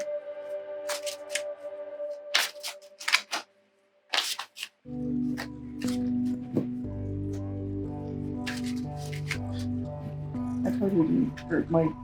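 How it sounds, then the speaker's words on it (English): Tarot cards being shuffled by hand, loose papery riffles and slides in bursts, close up, with a steady musical background beneath. "My shuffling is really sloppy right now"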